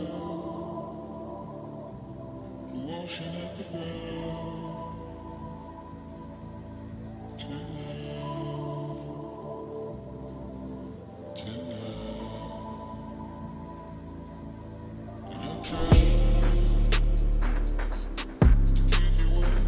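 A moody beat interlude built on a sampled melodic vocal and sustained tones, with sparse hits, before heavy bass and rattling hi-hats crash back in.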